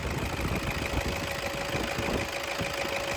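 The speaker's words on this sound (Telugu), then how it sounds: "ఇప్పుడైతే మీకు ఒకసారి ఇంజన్ స్టార్ట్ చేసి చూపిస్తాను చూడండి ఫ్రెండ్స్" A 2014 Toyota Innova Z diesel engine idles after starting, producing a faint, steady low chugging hum with a light knocking texture and no voices.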